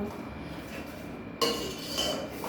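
A spoon stirs milk powder into milk for a carrot milk drink, giving light metallic clinks and scrapes against the vessel, with one sharper knock partway through; fairly quiet, with no talking.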